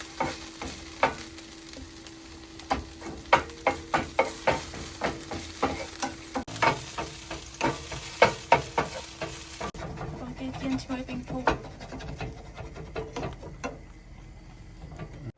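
Duck eggs fry in a pan with a steady sizzle beneath repeated sharp scraping and tapping strokes of a utensil, close and irregular, the clatter thinning toward the end.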